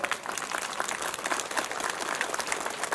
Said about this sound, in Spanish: Démosle un aplauso a él.